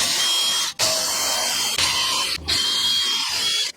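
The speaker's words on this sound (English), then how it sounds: "I'm going to use a little wire brush on a drill" A small wire brush spun by a drill scrubs a brake bracket on a 2016 Ford Transit XLT350, a loud continuous whirring scrape in three bursts separated by short pauses.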